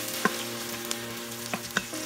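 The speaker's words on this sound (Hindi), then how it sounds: "तेल गर्म हो गया, अभी हमें प्याज फ्राई करना है।" Sliced onions sizzle steadily in hot oil for turkey keema, with a constant close frying hiss broken by a few soft clinks of stirring.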